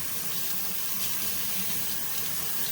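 Running water pours steadily from a tap while the parts of a Maircle F1 wet mop are rinsed, a close, even hiss and splash with no talking.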